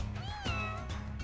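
Cat meowing in the video game Mewgenics: a single close, clear drawn-out meow with a rising then falling tone, heard alone over faint game background.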